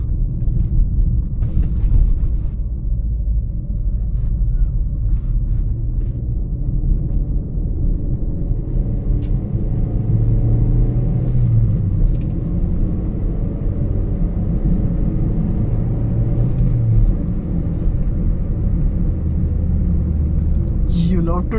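A Maruti Suzuki Swift's engine hums and rumbles steadily from inside the cabin, rising in pitch at moments as the car accelerates, with no talking.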